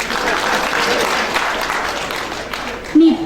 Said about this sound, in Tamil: கைத்தட்டலாம் பரவாயில்ல